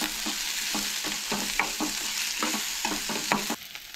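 Onions sautéing in a pan, a steady sizzle with repeated stirring scrapes about every third of a second, close and fairly loud, ending with a quieter sizzle.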